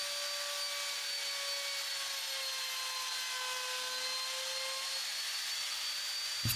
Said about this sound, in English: Let's put a little bit of a chamfer on all of the edges.